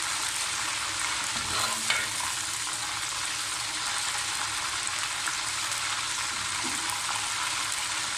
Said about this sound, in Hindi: तो चिकन मैंने अपना 3 से 4 मिनट अच्छी तरह ऑयल में फ्राई कर लिया।